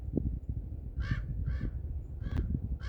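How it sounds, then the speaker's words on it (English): A crow caws four times at moderate distance, harsh short calls spaced under a second apart, over a low rumbling outdoor background during a storm. "that's a noisy crow, probably telling me to shut up"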